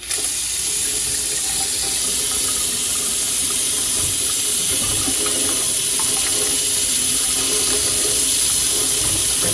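Water runs hard from a kitchen faucet with a sprayer after a repaired leak and replaced rubber O-ring, a loud, steady close-up splashing rush into the sink throughout, with no talking.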